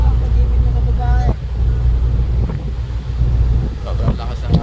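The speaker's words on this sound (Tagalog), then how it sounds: "Sobrang lakas ng hangin." Strong wind batters the deck of a ship, buffeting the microphone with a loud, constant low roar and gusty swells, while a voice speaks intermittently.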